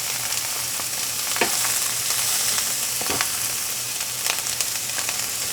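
Onion frying in butter in a pan, a loud continuous sizzle with occasional crackles and pops, close up with no voices.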